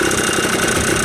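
A Yamaha Blaster ATV engine idles steadily after a top-end rebuild, a continuous close, loud mechanical drone with an even rhythm and no other sounds.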